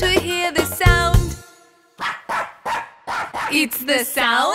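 A dog barks in a series of sharp yips and woofs, loud and close, with a short pause and then several more barks in quick succession; it could be a voice imitating the bark.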